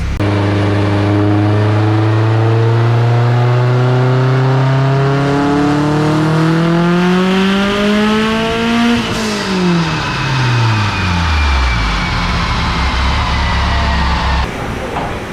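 A hybrid-block turbocharged Subaru WRX on a dyno at 22 pounds of boost winds up hard in one long, loud pull, its pitch rising steadily before the revs drop away and it settles back to idle, with no talk over it.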